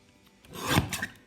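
Paper trimmer blade sliding across a strip of cardstock in one short, close, raspy cut that builds and fades within about a second.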